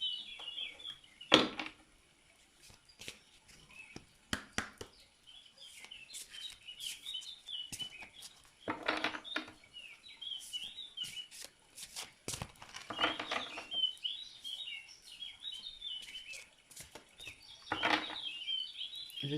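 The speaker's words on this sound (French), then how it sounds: "J'espère que le chant des oiseaux n'est pas trop fort, ainsi que l'eau qui coule du ruisseau" Birds chirp and sing on and off outdoors beside a stream, with steady high twittering and scattered sharp clicks; running water is not clearly audible beneath them.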